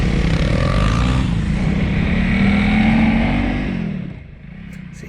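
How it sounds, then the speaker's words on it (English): 2025 Honda CRF300L motorcycle engine ridden off road, a close, steady single-cylinder drone that rises in pitch as it accelerates, then drops away as the throttle closes near the end. "The engine even sounds like it's got a bit more sense of urgency and a bit more sense of purpose about it."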